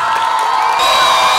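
A crowd at a Christian holiday gathering cheers and whoops in acclamation to Jesus, a dense sustained roar of many voices with rising shouts and shrill tones near the end.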